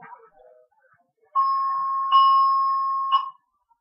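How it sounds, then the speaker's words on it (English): A fire alarm sounds a steady electronic ding-like tone held for about two seconds, with a slight pulse partway through, after a few faint indistinct noises. "Okay, that definitely is the fire alarm."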